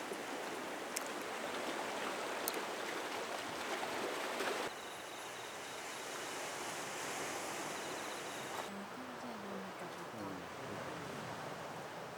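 A steady wash of sea surf hisses throughout on the route from Gangneung to Ulleungdo, with the character of the noise shifting partway through; no clear voices stand out.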